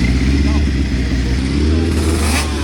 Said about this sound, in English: And the 2-stroke 500 from Suzuki.